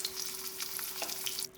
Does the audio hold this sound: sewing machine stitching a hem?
no